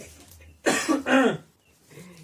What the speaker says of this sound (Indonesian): Sorry gue batuk ya